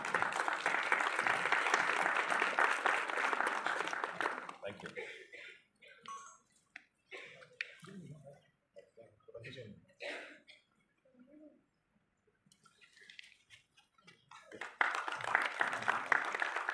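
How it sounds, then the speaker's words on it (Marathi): Loud, dense audience applause at a Marathi film festival felicitation ceremony in a Panjim cinema hall opens the clip, drops away to quieter murmuring and voices, then surges back strongly near the end. "जोरदार टाळ्या"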